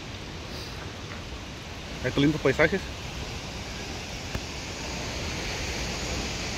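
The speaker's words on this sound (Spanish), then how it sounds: "Estamos nada más y nada menos en el famoso lugar, la cascada de Silverton" Silverton waterfall in Oregon gives off a steady, broad rushing roar that fills the whole scene, while someone speaks briefly in Spanish partway through.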